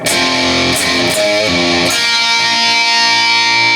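A distorted electric guitar plays a short riff with quick notes and pull-offs, then sustains a ringing chord; loud and close with no voices.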